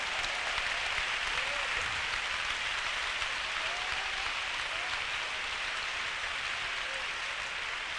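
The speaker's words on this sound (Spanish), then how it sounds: "Demos un aplauso para Él en esta hora" A church congregation claps steadily and continuously, a dense wash of applause sustained evenly throughout without pauses or voices on top.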